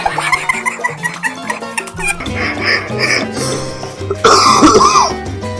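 Repeated harsh coughs and wheezy, strained breaths, close and loud, with shifting background noise and no clear speech.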